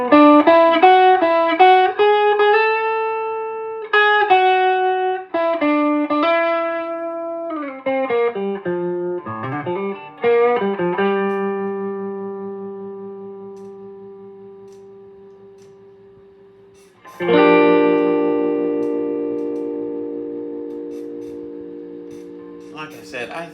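Electric guitar played through a Montgomery Ward 62GVC-904A amplifier with its reverb control engaged. Clean plucked notes and strummed chords ring out clearly, some left to sustain and fade slowly, with no talking.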